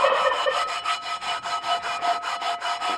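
A Lodge No. 8 SK cast iron skillet is scrubbed clean with a brisk, rhythmic back-and-forth rasping, about a dozen even strokes close up with no talking.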